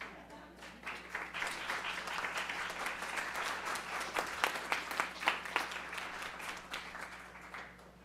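Applause from a school board meeting audience honoring students' families, steady dense clapping sustained throughout with a few sharper individual claps standing out, over a low steady room hum.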